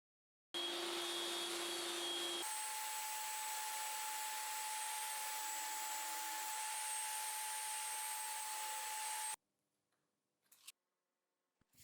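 A band saw cutting wood runs with a loud, steady whine that shifts pitch as it cuts, then stops abruptly, leaving a few faint knocks.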